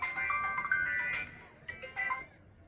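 A phone rings with a bright electronic melodic tone, repeating in two short bursts close by, with faint room noise between them and no speech.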